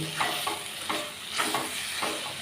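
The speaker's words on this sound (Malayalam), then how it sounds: "റോസ്റ്റ് ഇടക്കിടക്ക് ഒന്ന് തുറന്നിട്ട് ഇളക്കി കൊടുക്കണം കേട്ടോ അല്ലെങ്കിൽ അടിയിൽ പിടിക്കുവേ" Kerala-style clam roast sizzles in a pan while a spoon stirs it in repeated scraping strokes, roughly every half second, over a steady close frying hiss.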